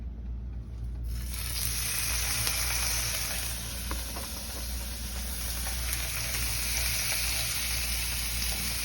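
Cajun-seasoned tilapia fillets hit a hot skillet and break into a loud, steady sizzle that holds evenly, with faint scraping and no talking over it.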